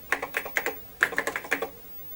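Fingers typing on the keyboard of an Osborne 1 computer, bursts of quick, close, crisp key clicks in two short clusters separated by a brief pause.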